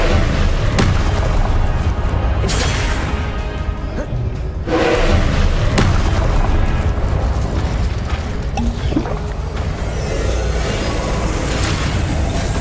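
Confringo fire spells explode during a combat fight in the Hogwarts Legacy video game, with loud booming blasts over a dense, continuous roar of game sound effects and music.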